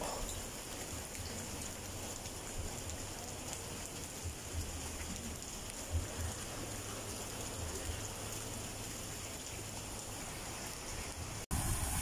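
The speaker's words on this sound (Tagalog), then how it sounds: "Lakas ng ulan." Steady, dense heavy rain hissing continuously on surfaces at a villa in Tanza, Cavite, a constant broadband wash with no pauses, nearby and fairly loud throughout.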